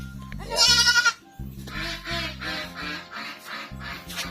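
A goat on a farm, being dewormed and suffering from a cold, bleats loudly in a strained, wavering cry, then keeps up a chain of shorter repeated bleats, close and without talking.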